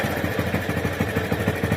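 A parked motorcycle idles nearby with a steady, rapid thumping pulse, the engine ticking over evenly for a couple of seconds with no voices.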